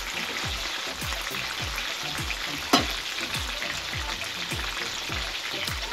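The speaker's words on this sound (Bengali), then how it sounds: "এই জন্য আপনাদেরকে এটা হাই হিটে ভাজতে হবে। আমরা একটু পোড়া পোড়া করে ভেজে নিচ্ছি।" Chicken suslik kabab fries over high heat in a pan, a steady close sizzle running throughout with one brief sharper crackle near the middle.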